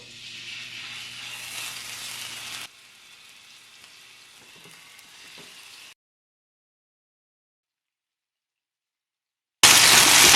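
Marinated fresh salmon pieces sizzle in a frying pan, a close hissing that drops to a softer fizz, then cuts to silence before a loud burst of sizzling returns.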